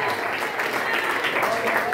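Church congregation applauding during a prayer service, a dense, steady wash of many hands clapping at full level throughout, with a murmur of voices mixed in.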